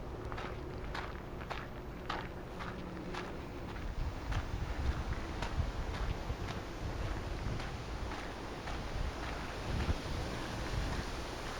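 Strong wind blowing outdoors in Minsk on a gusty August day, a steady rumbling buffet across the microphone with footsteps crunching along at a regular pace throughout.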